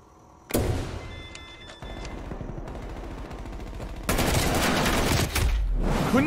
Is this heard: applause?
no